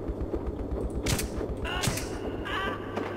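Two or three sharp, booming gunshots in the video game Metro 2033 ring out at uneven intervals over a steady low electronic hum, with no voices.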